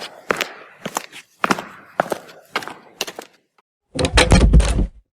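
A hut door being shut: a run of short, separate knocks and steps, then one heavy, close thump that swells and cuts off, with nobody talking.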